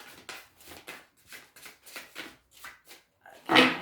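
Tarot cards are shuffled in a steady run of about a dozen quick, close riffles and slides, followed by a louder single slap or snap at the end, with no talking.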